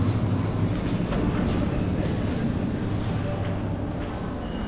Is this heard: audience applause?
no